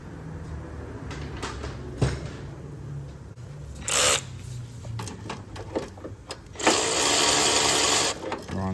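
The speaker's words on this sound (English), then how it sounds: "Now I'm going to tighten up both of the pivot anchor bolts." Bolts on the alternator pivot anchor of a 2006 Toyota Sienna being tightened, with scattered metallic clicks and clunks of tools and a couple of short whirring bursts, close up, no talking.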